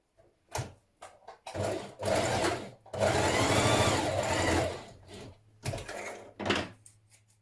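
A domestic sewing machine stitches dress facing pieces together at the shoulder seam, running in several bursts of steady, close motor whir with short pauses between them, one long continuous run in the middle.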